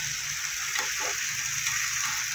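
Cut potatoes fry in a pan for aloo posto, a dense, even hiss of hot oil with faint stirring underneath, close and constant throughout.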